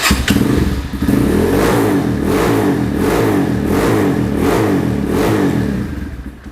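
A Honda CB250 trail motorcycle engine revved repeatedly during a test, loud and close, with rhythmic swells of engine roar and mechanical clatter rising and falling about once a second, alone without talk.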